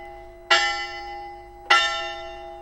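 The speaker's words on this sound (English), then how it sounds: "the bell in the clock tower strikes 10" A church clock tower bell in the game Jisei strikes twice, each clear metallic clang ringing out with a long sustained hum that decays before the next stroke, about a second apart.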